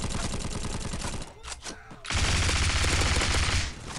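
Rapid automatic gunfire from the online shooter Bullet Force, loud and sustained, broken by a short lull before another dense burst.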